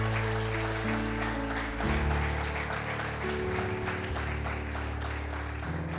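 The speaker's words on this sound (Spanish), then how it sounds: "Vamos a darle un aplauso al Señor" A church congregation applauds during a worship service, steady clapping spread through the room over sustained organ or keyboard chords, with no speech on top.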